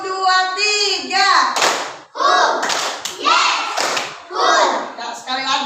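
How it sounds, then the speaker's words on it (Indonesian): Children chant a count together and clap their hands in time, a few sharp claps landing between the chanted numbers in a repeating classroom rhythm game, close and lively. "Tepuk 1. Tepuk 2. Tepuk 3. Tepuk 1, 2, 3."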